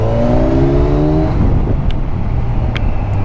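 Kawasaki Ninja 1000 motorcycle accelerating hard in road mode, a loud close engine roar with rising harmonics climbing through the gears, then continuing as a steady rush of engine and wind noise.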